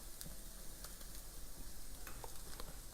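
Egg whites cooking in a pan for a turkey sausage breakfast bowl give a steady, even sizzle with occasional light scraping of a utensil, close and unbroken throughout, with no voices.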